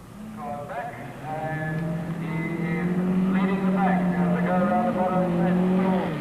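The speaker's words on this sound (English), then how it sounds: "these spectacular monster machines slide their way around the bottom corner and accelerate hard along the uphill straight" Off-road racing monster machines sliding through a corner and accelerating hard up a straight, a steady loud engine drone with rising and shifting pitch, under a commentator's voice throughout.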